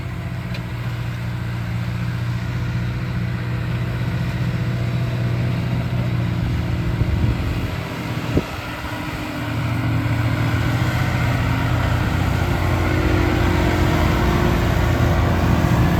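A Fendt 313 tractor engine runs steadily under heavy load while levelling a wheat field with a laser land leveller, a loud continuous mid-pitched drone that briefly dips and then rises again.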